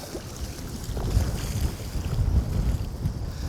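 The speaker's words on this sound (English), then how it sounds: "It's still windy, but it's not as choppy here." Strong wind buffets the microphone on a fishing boat over choppy water, a continuous low gusty rumble with faint lapping waves beneath and no voices.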